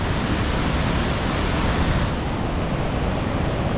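The main falls at Hogenakkal, a broad continuous roar of rushing water that fills the whole clip, loud, steady and close, with no talk.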